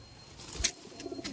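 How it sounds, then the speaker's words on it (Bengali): Flying pigeons kept for tournament racing give a soft, faint coo amid quiet surroundings, with a brief flutter of wings in the middle and a few small chirps afterward. "দেখুন পায়রাগুলো দেখুন, সব এইগুলো কিন্তু ওড়ানোর পায়রা"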